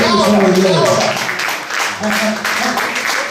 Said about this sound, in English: It's all right clapping, ladies and gents